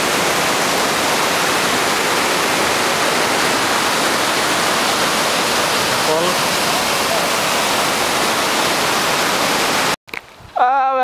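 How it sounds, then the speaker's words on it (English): Recoletos Waterfalls on Biliran Island, a loud, steady, dense rush of falling water filling the scene, cutting off abruptly near the end as a voice briefly begins. "We're here in Recoletos Waterfalls."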